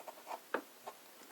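Test strokes drawn with a Pilot Parallel 6mm nib loaded with Diamine Oxblood ink, a few soft scratchy passes across paper, close and quiet, with one sharper stroke in the middle.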